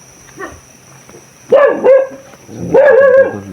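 Dogs bark outdoors in an area crowded with dogs: a faint yip, then two loud, close barking bursts with a short gap between them.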